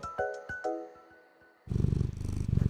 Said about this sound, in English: Oh yeah, I think she's purring.